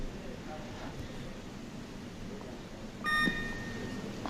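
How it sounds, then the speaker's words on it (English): A 30-second buzzer at a weightlifting competition sounds once late on, a short bright electronic tone over a quiet hall murmur. "there's the 30-second buzzer"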